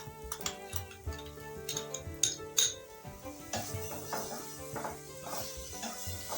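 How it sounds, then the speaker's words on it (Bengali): Ginger garlic paste frying with browned onion in a pan for a Bengali egg curry, with clinks and scrapes of a utensil against the pan over a soft background sizzle, close and moderately loud. "এবার আমরা এতে আদা রসুনের পেস্টটা অ্যাড করে দেবো"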